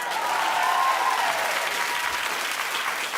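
Sustained applause from a talk-show studio audience, a dense steady wash of clapping that stays loud and even throughout with no talk over it.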